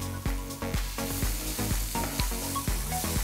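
Chopped ginger and green chillies fry in a pan with cumin and carom seeds, a bright close sizzle punctuated by a rapid series of sharp clicking knocks, with no voices.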